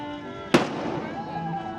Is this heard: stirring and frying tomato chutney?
no